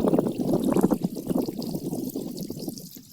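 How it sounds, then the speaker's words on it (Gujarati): Irrigation water pours steadily into a chickpea field, making a continuous gurgling, splashing flow heard up close and without voices. "આ પાણી આવે આપણા ખેતરમાં"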